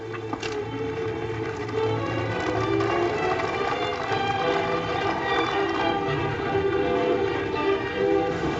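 A train runs in an old Hopalong Cassidy western film, a loud, continuous rumble with steady mechanical churning and sustained whistle-like tones throughout.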